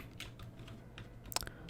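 Computer keyboard typing during Minecraft play: a few scattered soft keystrokes, then a quick close cluster of clicks near the end, all fairly quiet with no talking.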